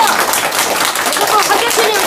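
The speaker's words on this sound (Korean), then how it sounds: "한번 열렬한 박수로 응원해 주시기 바랍니다." An audience at an indoor political rally gives dense, loud, continuous applause that fills the whole stretch without letting up.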